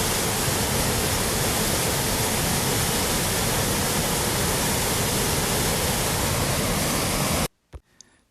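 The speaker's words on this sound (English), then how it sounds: "Here is a brief audio clip of the stream that I recorded during my hike." Mountain stream on the Ravennaschlucht trail in the Black Forest, Germany, rushing as a loud, steady broadband roar for about seven seconds before cutting off abruptly, leaving faint handling knocks.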